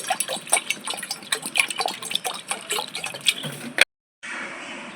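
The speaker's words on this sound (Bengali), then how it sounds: "দেখুন আমি জল নিয়ে নিচ্ছি" Water pouring and splashing into a container for washing vegetables in a home kitchen, a steady close gush with small clatters, cutting off abruptly near the end before a softer hiss resumes.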